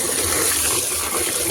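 Water running from a hose into a tank on a farm, a steady loud gushing rush with no breaks, close and alone.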